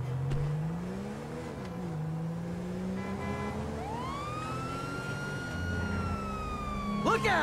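A police car siren wails in GTA V as the car drives and accelerates, sweeping up and down under a steady engine rumble, fairly close.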